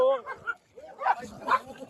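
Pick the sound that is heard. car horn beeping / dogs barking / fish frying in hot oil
dogs barking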